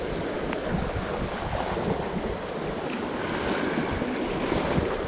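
Strong gale-force wind at sea roars into the microphone while night squid fishing, a steady buffeting rush with water and surf washing beneath it and no voices.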